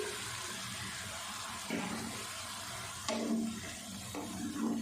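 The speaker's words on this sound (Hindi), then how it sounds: "और इस जगह पे मैं अब इसमें 1 कप दूध डाल दूँगी।" A cup of milk pours into palak paneer cooking in a pan, a close liquid splash and gurgle that swells twice in short bursts over a soft background hiss.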